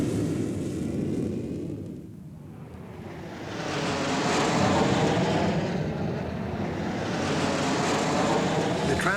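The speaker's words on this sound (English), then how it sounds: "the newly introduced F-86 Sabre." An F-86 Sabre jet passes overhead with a broad, rushing roar that swells, dips and then builds again, loud and sustained, with no talk over it.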